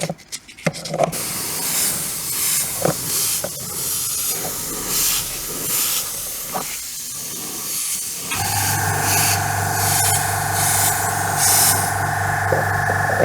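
An airbrush compressor runs steadily with a low, even hum and hiss, starting partway through after quieter hissing bursts from spraying model paint on a 1/48 Timberwolf.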